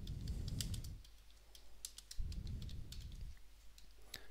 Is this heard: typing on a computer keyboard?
yes